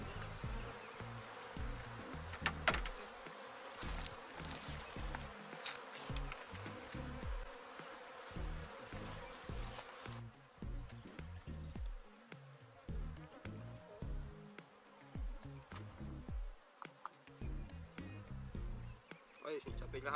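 Honeybees buzz densely around an open hive box as the queen is set free beside the frames, a close, wavering drone that swells and thins, with someone speaking over it now and then.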